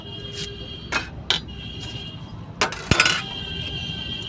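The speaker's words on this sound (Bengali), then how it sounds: "এইবার আমি কড়াইটা বসিয়ে দেব" A metal kadai set down on a wood-fired clay stove while cooking smoky kabab kosa, giving a few sharp, close metallic clinks and knocks in a short cluster over a steady low background hiss.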